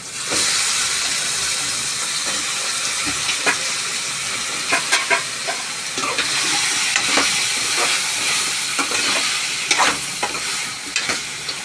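Drumstick pieces fry in hot tempering with tomatoes for a drumstick curry, giving a continuous sizzle and hiss broken by sharp scrapes and clinks of stirring in the pan.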